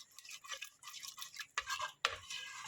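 A spoon stirs yogurt into veg biryani in a pot, producing close, scraping and squelching strokes in irregular bursts with a couple of sharper clinks against the metal, no voices present.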